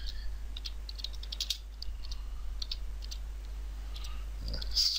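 Code is typed on a computer keyboard in scattered bursts of light, quiet key clicks over a low, steady room hum.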